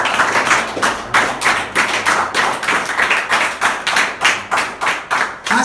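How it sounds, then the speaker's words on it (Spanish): Church congregation applauding in honor of Jesus Christ during a sermon, a steady rhythmic clapping that beats in unison and stays loud and close for several seconds, with no speech over it. "Denle un aplauso a Jesucristo."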